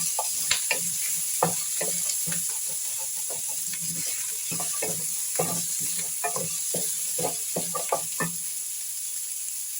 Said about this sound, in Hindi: इसको हम थोड़ा सा करेंगे फ्राई।